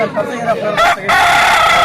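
Native village rooster crowing loudly and close, a short strained call rising to a sustained high note, at a livestock fair.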